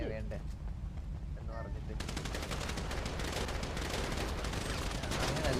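Video game gunfire comes in rapid, repeated automatic bursts. A quieter stretch gives way to a dense, steady rattle of shots from about two seconds on, at a low overall level.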